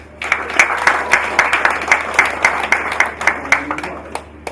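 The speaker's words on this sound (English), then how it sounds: "I think we should give NSE a round of applause." Steady applause from a crowd, many hands clapping in a dense, rhythmic patter that holds for several seconds at moderate volume.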